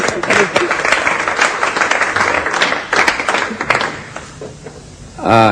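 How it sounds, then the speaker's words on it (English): Audience applause for a young student called up front at a double bass master class, a dense wash of clapping running most of the clip before thinning out, with a voice starting at the very end. "You can applaud. It's all right."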